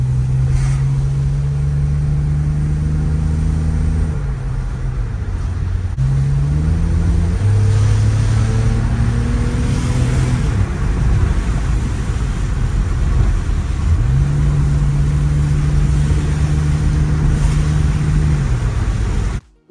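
A BMW X3 with the M54 engine, which has a misfire, runs on a test drive. Steady engine and road drone carries throughout, with tones rising and falling through several shifts as it accelerates.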